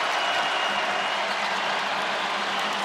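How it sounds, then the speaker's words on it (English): Loud, dense basketball arena crowd cheering and roaring steadily during a VCU vs Richmond rivalry game in 2023, a continuous wash of noise with no pauses. "Crowd's back in it."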